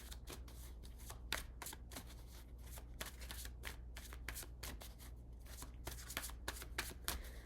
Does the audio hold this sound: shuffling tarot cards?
yes